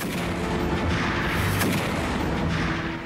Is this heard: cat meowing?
no